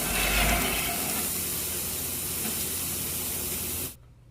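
Butter sizzles on shrimp over a hot grill, a steady loud spray-like hiss that holds for about four seconds, then cuts off abruptly into near silence.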